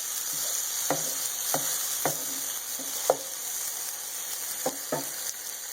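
Spice paste fries in a pan over lowered heat, a steady close sizzle punctuated by roughly eight sharp scrapes and knocks of a spoon stirring at uneven intervals.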